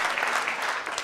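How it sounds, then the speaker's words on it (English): Audience applause at a university talk, a brief dense wash of clapping from a packed room, steady and fairly loud throughout. "Give him a round of applause for that."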